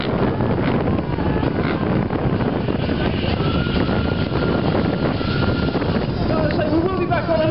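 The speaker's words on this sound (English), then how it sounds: "We're going to hope that this wind does indeed die down." Strong wind buffets the microphone at an outdoor dirt bike show, a loud, continuous roar with faint voices and crowd sounds beneath it.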